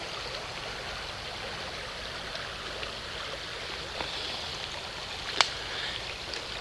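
Steady rushing water from a small waterfall beside a city hiking trail, an even wash with a brief sharp knock near the end and no talking.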